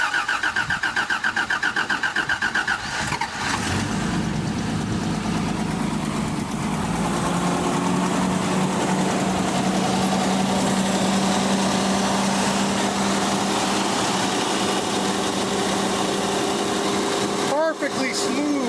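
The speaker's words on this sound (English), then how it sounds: "Let's hear that engine." A low-mileage vintage Toyota cranks and catches, then settles into a smooth, steady idle that hums close by for the rest of the stretch, with a brief disturbance near the end and no speech.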